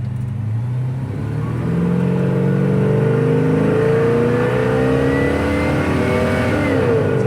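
A 1955 Chevy Bel Air engine pulls hard while the car accelerates down the road, a loud, close, rising engine roar with gears climbing in pitch, heard alone without talk.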